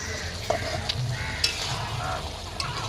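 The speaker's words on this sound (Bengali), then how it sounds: "ঢাকা দিয়ে একটু ফুটিয়ে নেবো" Dried fish cooked with bean seeds simmers under a lid, giving a steady close bubbling sizzle with a few light clicks and taps scattered over three seconds.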